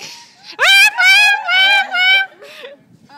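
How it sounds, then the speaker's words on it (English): Men in cages in a stage play shout and wail in long, loud anguished cries, then the voices drop into quieter whimpering and moaning. "Shouting and whimpering comes from the other cages."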